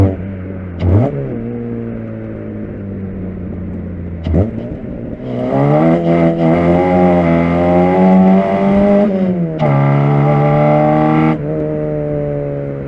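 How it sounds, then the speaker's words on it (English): An Opel Kadett GSI engine revs up and holds at high speed, a smooth, steady rising whine with gear shifts, loud and close. "it almost doesn't run out of breath at the upper limits of the rev"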